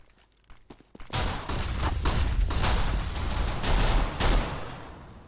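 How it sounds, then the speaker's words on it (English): Counter-Strike match on de_inferno: Galil rifle fire breaks out after a brief quiet start, rapid bursts of gunshots continuing densely with some distant shots and footsteps in between. "there's another one from Alex with this Galil landing the shots"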